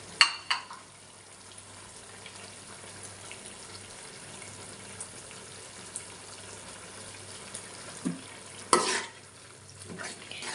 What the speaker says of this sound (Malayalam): എന്നിട്ട് നന്നായിട്ടൊന്ന് ഇളക്കി കൊടുക്കാം